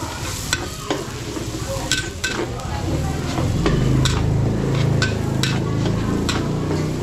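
Garlic and onion sizzle in a pan during catering cooking, with a steady, loud frying hiss and repeated clinks and scrapes of a utensil as they are stirred.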